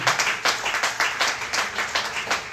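Church congregation clapping in a steady rhythmic beat, a regular pulse of claps about twice a second, moderately loud, with no speech over it.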